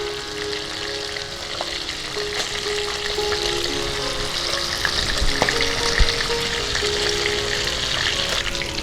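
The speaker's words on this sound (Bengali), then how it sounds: "তেলাপিয়া মাছগুলো ভাজা হয়ে গেছে" Tilapia fish fry in hot oil in a pan, a close, continuous crackling sizzle with occasional pops and light clinks, steady and moderately loud with no talking.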